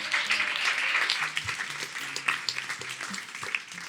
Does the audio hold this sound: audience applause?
yes